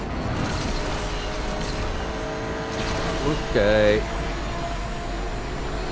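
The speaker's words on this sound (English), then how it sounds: "I freaking love the engine sound of this thing." A car engine in the racing video game Asphalt 8 drones steadily with a rough, revving hum throughout; a person briefly speaks partway through over the engine noise.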